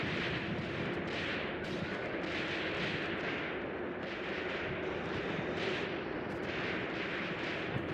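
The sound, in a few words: gunfire with blanks in Tank Warfare: Tunisia 1943 video game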